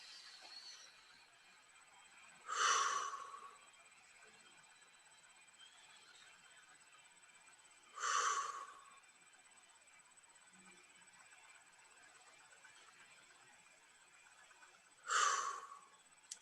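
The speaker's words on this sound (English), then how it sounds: "in through the nose, out through the mouth." Three separate slow breaths, drawn in through the nose and let out through the mouth, come as soft hissy rushes several seconds apart. A faint steady tone hums beneath them in an otherwise quiet room.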